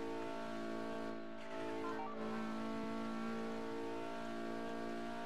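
A Roblox Rev race car engine holds a steady, loud drone at constant revs, with a brief dip and small pitch shifts, continuous throughout with no talk.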